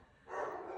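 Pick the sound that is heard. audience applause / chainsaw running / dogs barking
dogs barking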